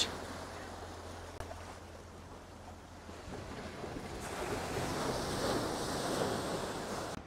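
At high tide on Patowartek beach in Cox's Bazar, ocean surf rolls in as a soft, continuous wash mixed with gusty wind rumbling across the microphone. The sound is faint and rises slightly toward the end.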